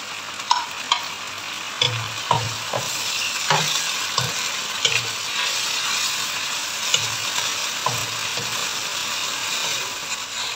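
Sauce for steamed fish simmers in a pan with a steady bubbling sizzle, punctuated by scattered sharp clicks and utensil taps throughout, moderately loud and close, with nobody speaking.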